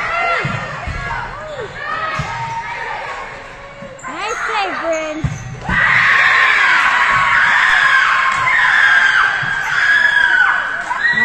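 At a youth 16s volleyball match indoors, a crowd of young spectators cheers and screams, rising into a sustained loud high-pitched roar over echoing gym noise, ball bounces and scattered shouts.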